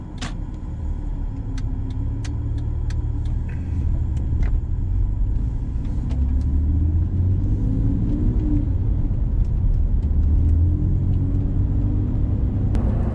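Supercharged Jaguar XKR being driven on a road trip around Scotland, a steady low engine rumble with road and tyre roar, continuous and close, with a few faint clicks over the top.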